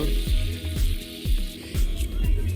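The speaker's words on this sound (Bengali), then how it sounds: "এবার কিশমিশটাকে ভালো করে ভেজে নেব" Raisins frying in a pan with carrot, egg and capsicum already cooked, a close steady sizzle with soft repeated stirring scrapes, cooked outdoors for a small winter picnic.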